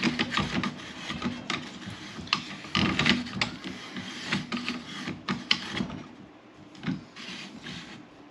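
The back end of a Sharp Bros. Heatseeker chassis is threaded onto a Ruger American Ranch 7.62x39 rifle, making close, irregular scraping, rubbing and ratcheting bursts with small knocks, fairly quiet and with no talk.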